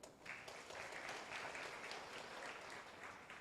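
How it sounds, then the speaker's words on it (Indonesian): Applause at an Indonesian public talk for a guest named Mas Didi: a faint, distant and even patter of many hands clapping continuously throughout. "Tepuk tangan buat Mas Didi."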